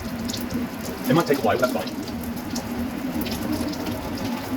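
Spaghetti cooking water pours steadily out of a saucepan into a sink, a continuous watery rush that swells briefly near the start, with a person talking over it.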